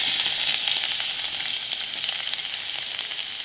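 Five or six cloves of finely chopped garlic fry in a pan with a dense, steady crackling sizzle close by, continuous throughout with no talking.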